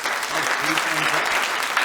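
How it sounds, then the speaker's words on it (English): An audience at a country music comedy show gives a brief, dense round of applause, steady and moderately loud, with faint voices mixed in. "there's a little bit of applause"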